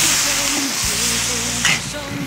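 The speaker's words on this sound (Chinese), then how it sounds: "现在我们就开始生煎肥肠" Pork intestines stir-frying over high heat with garlic, pickled chilies and small hot peppers, a loud continuous close sizzle and hiss with a brief stirring clatter near the end.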